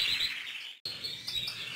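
Goldfinches in an aviary give faint, high chirps and tweets that break off briefly and then resume, with no voices.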